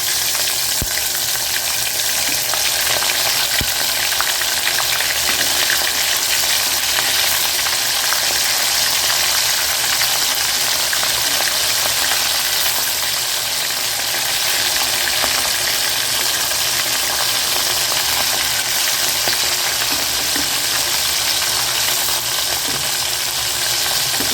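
Prawn 65 deep-frying in a pan of hot oil, a loud, dense, steady sizzle and bubbling that runs unbroken, with a few faint clicks from the pan, and no voices.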